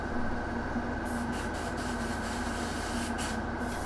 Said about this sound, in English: We just need to be a bit more aware of how we manipulate the airbrush